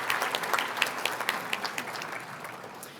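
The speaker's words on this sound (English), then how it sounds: "Can we please give applause to Tom Duma for his generosity" Audience applause at the Regional Chamber ATHENA Award 2025 ceremony, a dense crowd clapping steadily for a gift donor, loudest at the start and gradually thinning over three seconds.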